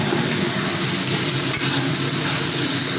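Onions frying in hot oil with a little ghee and whole garam masala, giving a steady, dense sizzle that runs loud and unbroken throughout.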